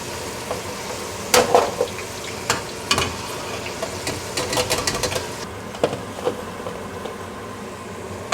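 Raw fries cooking in very hot oil, a steady close crackle and sizzle with scattered sharp pops and clatters over the bubbling.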